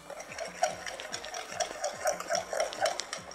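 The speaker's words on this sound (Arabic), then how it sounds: "بصوا بقى انا هفضل اقلب اقلب كده" A spoon stirs a mixture in a hot frying pan while doka bread is made, giving repeated scraping strokes in a steady rhythm, close by and moderately loud.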